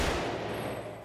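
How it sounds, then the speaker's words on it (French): A German MG42 machine gun fires a rapid burst, a loud, dense, continuous roar of shots with no pauses. "Je ne connais pas de son aussi terrible que celui de la MG42."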